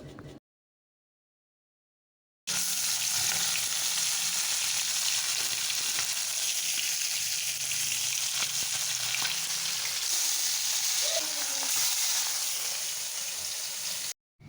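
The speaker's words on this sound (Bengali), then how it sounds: "চলো এবার মাছগুলো ভেজে নেব" Fish pieces coated in salt and turmeric frying in a pan, a loud, continuous close-up sizzle with fine crackling that begins suddenly after a brief silence and holds steady almost to the end.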